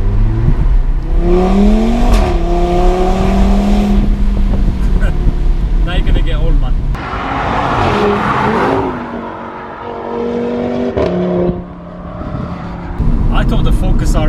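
Audi RS3 engine revving hard under acceleration with a rally-style rasp, rising and falling through gear changes, loud and close inside the car, with someone talking over it.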